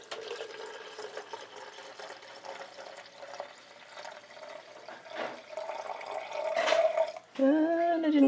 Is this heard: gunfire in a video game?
no